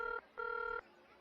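Two bursts of an electronic telephone ring in a Hindi TV sitcom household, a short steady tone then a longer one, fairly faint, followed by quiet.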